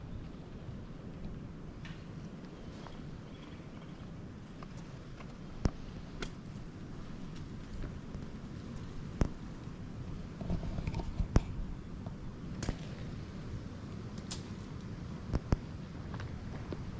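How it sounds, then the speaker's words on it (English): Heavy rainstorm with strong gusting wind in Kansas public-land hunting country, a dense low roar of rain and wind buffeting the microphone, broken by scattered sharp cracks and thumps, with no talking. "we in Kansas in the middle of a really good rainstorm right now"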